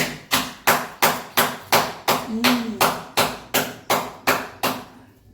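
Goat lungs being chopped for curry with a knife on a board, a steady run of about thirteen loud, evenly spaced thuds, close and rhythmic, with a brief voice murmuring midway.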